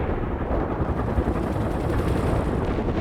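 Sustained heavy gunfire rumbles through a battle in the real-time strategy game World in Conflict, a dense continuous roar of shots and low booms with no pauses, loud and close throughout.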